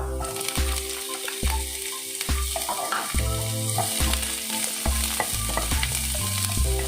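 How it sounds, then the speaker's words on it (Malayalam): Finely chopped medium-sized onion sautés in a pan with ginger and garlic, a steady close sizzle over which a spoon strikes and stirs at a regular beat, with a constant low hum behind and no talk. "മീഡിയം സൈസ് സവാളയാണ്, ചെറുതായി അരിഞ്ഞത് ചേർത്ത് കൊടുക്കാം"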